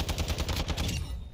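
A burst of rapid ISO Hemlock rifle fire with no attachments in Modern Warfare 2, about ten evenly spaced loud shots in quick succession before cutting off.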